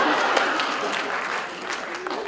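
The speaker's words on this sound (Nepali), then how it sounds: "ख्याख्या गरेर ताली ठोकिरहेको" An audience claps steadily through a Nepali political comedy show, a dense, fairly loud patter of applause with voices mixed in.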